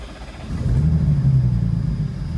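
A wrecked 2023 BMW M3 being rebuilt, its engine firing up and idling unevenly with a misfire, a steady loud low rumble swelling after the first half-second and holding with slight roughness.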